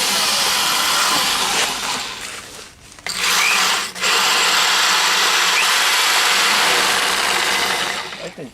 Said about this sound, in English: this is a masonry bit. He's gonna drill into the sides right there